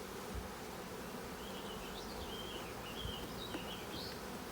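Honeybees buzzing around an open beehive during hive merging, a faint, continuous drone with individual bees whining past now and then over a low background hum.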